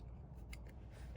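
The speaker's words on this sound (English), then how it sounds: "snip some of this off, curl inward, add your glue in the center." A pair of scissors gives a short, close snip as it cuts paper for a handmade paper succulent, one crisp cut at the very end after quiet rustling.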